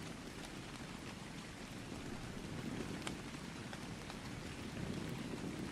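Steady rain falling in the survival game Ark Survival Evolved, a continuous soft hiss of drops with low rumbling underneath, quiet and even throughout.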